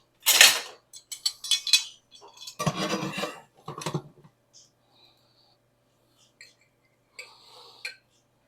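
Metal utensils clatter and scrape against a pan as a large spatula works under an omelet, a few sharp clanks and rubs close by, followed by quieter ticks and a brief scrape.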